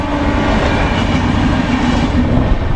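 The Saraighat Express rushes past near a station outside Howrah, a steady loud roar of rolling wheels and rail rumble filling the whole moment with no voices.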